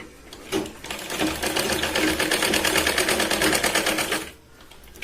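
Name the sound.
sewing machine stitching a blouse shoulder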